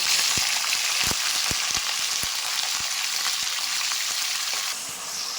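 Chicken, 750 grams, fries in oil with roasted onions for a chicken curry: a loud, close, unbroken sizzle with scattered popping crackles that eases slightly near the end, with no voices.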